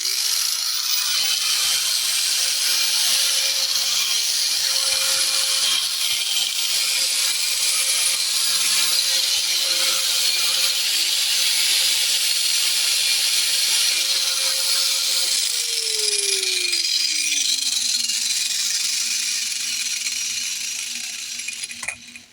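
A power grinder sharpens a hedge trimmer blade with a loud, steady, hissing grind and a constant whine lasting about fifteen seconds, then the motor pitch slides down as it winds toward a stop.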